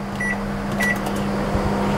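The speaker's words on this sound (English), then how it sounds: "So this goes in the microwave." A microwave oven running on reduced power while heating a salmon meal, a steady close hum with a faint mechanical whir and a couple of soft clicks, no talk.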